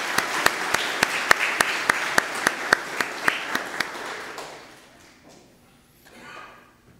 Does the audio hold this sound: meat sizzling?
no